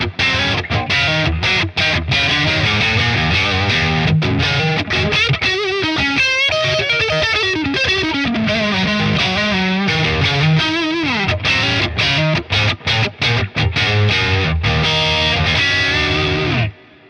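A Stratocaster electric guitar runs through a high-gain Neural DSP Archetype Abasi distortion with the tight control turned up, playing loud, busy riffs and chugging chords with quick stops, then cutting off abruptly at the end.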